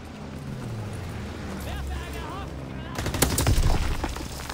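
Rapid bursts of gunfire in a Call of Duty WW2 multiplayer match spray an area, growing louder and denser in the last second and a half over steady game ambience, with someone talking throughout.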